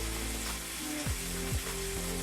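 Oxtails brown in a pot with a steady, close, continuous sizzle, while faint tonal hums and sweeping tones run underneath.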